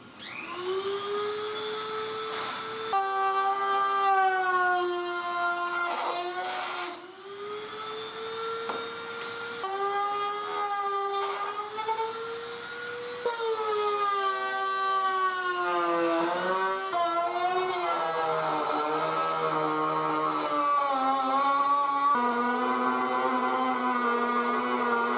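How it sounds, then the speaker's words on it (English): A Dremel with a tiny cutoff wheel cuts the lip off a Jeep fender flare, a high, whining tone that rises and dips in pitch as it bites into the plastic, with brief pauses between passes. "I got my little Dremel here with a little tiny cutoff wheel. We'll see if I can cut this lip off and these little alignment pins with this."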